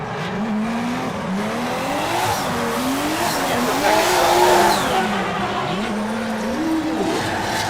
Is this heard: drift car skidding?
yes